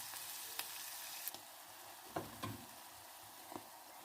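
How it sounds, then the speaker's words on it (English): Ground beef sizzles and fries in a pan for a meat pie filling, a steady close crackle with a few soft knocks of a spoon stirring. "I will go ahead and add the ground beef. Then after that, I will stir fry for 5 minutes."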